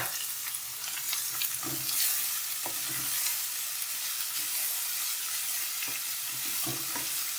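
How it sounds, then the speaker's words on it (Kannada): Bitter gourd frying in a pan with onions for a gojju curry, a steady bright sizzle filling the clip while a spoon stirs and scrapes the pan now and then, close and continuous with no speech. "ಈಗ ಇದಕ್ಕೆ ನಾನು ಹಾಗಲ್ಕಾಯಿ ಹಾಕ್ತೀನಿ ಆಯಿತಾ"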